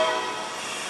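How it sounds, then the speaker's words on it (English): A brief, loud blast of a train horn with steady rumbling noise, heard close and alone for about a second. "train, there it is again, every morning like clockwork"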